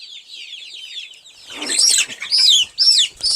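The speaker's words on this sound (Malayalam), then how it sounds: "ഇതിനകത്ത് വേറെ കോഴിയുണ്ട് നാടനല്ലാത്ത കോഴിയുണ്ട്" Native Kerala chickens and Egyptian Fayoumi chickens cluck and chatter close by, soft at first, then a louder burst of squawking calls with a brief flutter.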